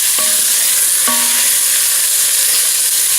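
Turkey tenderloin searing in a hot pan on medium-high heat, a continuous bright sizzle with a couple of brief clinks of a utensil against the pan; no talking.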